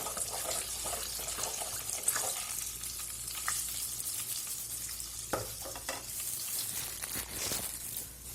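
Asafoetida hisses in hot oil in a pan while a spoon stirs it, a close continuous sizzle with scraping strokes and a few sharp clinks, with no talking.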